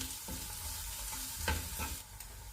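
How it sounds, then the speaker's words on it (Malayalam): Coriander powder masala frying on a low flame for an anchovy roast, with a gentle continuous sizzle under a few quick scraping stirs of the spoon against the pan, close and fairly quiet with no voices. "ഫ്ലെയിം കുറച്ച് വെച്ചിട്ട് അതിൻ്റെ ആ പച്ചമണം മാറുന്ന വരെ ഒന്ന് ഫ്രൈ ചെയ്തെടുക്കുക."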